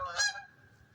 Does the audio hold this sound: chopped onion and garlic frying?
no